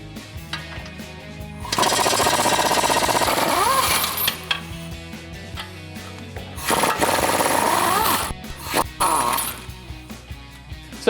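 An impact-style power tool spins out 21mm brake caliper bolts on a 2015-2020 Ford F-150, sounding as two loud, close rattling bursts of a couple of seconds each, separated by quieter handling and clinks.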